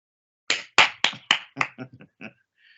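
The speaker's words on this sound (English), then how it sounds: "I clap hands for you there" About eight sharp hand claps close by, quick and evenly spaced at first, then softer and more scattered as they trail off into quiet.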